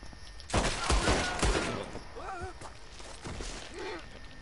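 A gunshot from a revolver fired at a man in Red Dead Redemption 2, a sharp burst of loud cracks early on, followed by quieter game sounds and brief voice-like tones.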